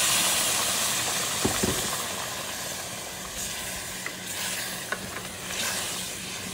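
Hot water hits a pan of frying rice and sets off a loud, steady hissing sizzle with bubbling steam, with a few faint clinks of a utensil, close and unbroken.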